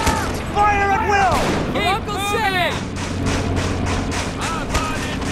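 Gunfire and artillery from the WWII strategy game Men of War: Assault Squad 2 in a Tunisia battle, steady volleys of shots and booms running throughout under shouted voices.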